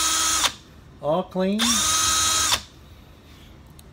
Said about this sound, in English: you don't push it real hard because the drill is very fast